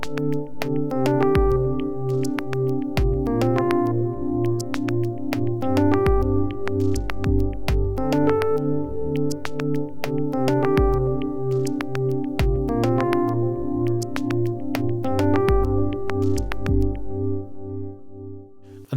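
Logic Pro delays shaped by an autofilter and tremolo panning, so repeated synth chord stabs pulse in a steady rhythm and sweep across the stereo field with echoing tails, no voices.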